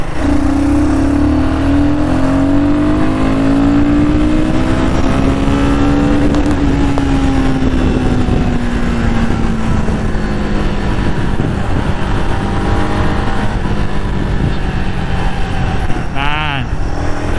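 A Royal Enfield Guerrilla 450 motorcycle is ridden on a road, its engine droning loud and close with slowly shifting pitch and steady wind rush, while a rider talks over it throughout.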